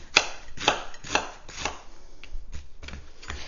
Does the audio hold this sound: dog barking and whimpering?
no